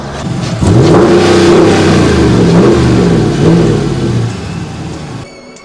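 Car engine revving up close, a loud throaty rise and fall in several surges over a steady running drone, then cutting off abruptly.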